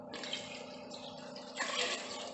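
Water poured into a bowl of kadhi batter for kadhi pakoda, a steady splashing pour that surges louder partway through, close up and with no talk.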